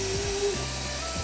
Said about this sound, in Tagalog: Xiaomi Compact Hair Dryer. Nadidig niyo ba yun? Lakas oh.